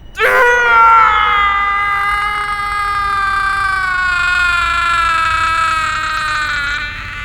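A man lets out a long, loud agonized scream that starts abruptly and holds a high, strained pitch for about seven seconds, wavering slightly before tapering off near the end, with nothing else heard alongside it.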